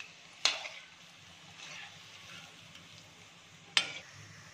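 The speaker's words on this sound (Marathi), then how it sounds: "लो फ्लेमवरच हे फ्राय करायचे" Soybean kebabs fry in oil over a low flame with a steady, soft sizzle, and two sharp crackling pops stand out near the start and end.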